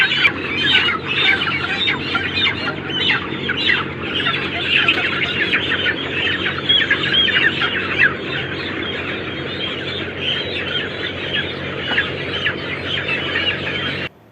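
Broiler chickens in a poultry house cluck and squawk continuously for the whole stretch, a dense, busy flock chorus with no talking.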